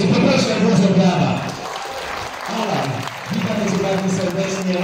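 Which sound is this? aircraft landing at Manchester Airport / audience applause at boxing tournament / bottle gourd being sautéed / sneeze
audience applause at boxing tournament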